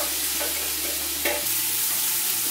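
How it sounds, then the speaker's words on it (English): Sliced leeks sautéing in oil in a large soup pot, a loud steady sizzle with a brief stirring scrape midway and a low hum underneath. "sauteed the leeks 3 to 4 minutes until wilted"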